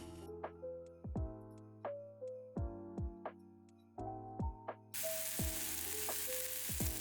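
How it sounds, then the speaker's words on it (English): Onions frying in a pan over high heat, a steady sizzle under repeated clinks and taps of a utensil, with the frying hiss swelling louder and brighter toward the end. "I cook these onions on the high heat for just a minute and a bit, so I can just get it lightly cooked"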